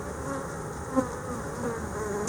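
Honey bees drone steadily at an open hive during a frame inspection, a dense close buzz with no pauses and no voices.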